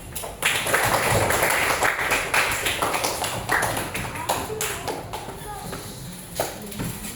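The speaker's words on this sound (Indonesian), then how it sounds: "Tepuk tangan buat Apit." A class of students claps for a classmate, a dense burst of many hands close by that starts loud, keeps going unevenly and slowly thins out, with faint voices underneath.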